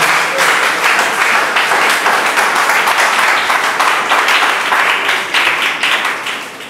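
A church congregation at an Easter service applauds loudly for the Lord, dense sustained clapping with scattered cheers from a large crowd, steady throughout and tapering slightly at the end.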